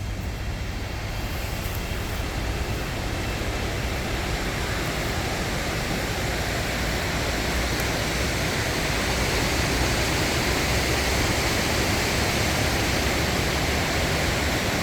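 The raging Fraser River torrent rushing through a rocky canyon in British Columbia, a loud, dense, unbroken roar of whitewater holding steady throughout near a campsite.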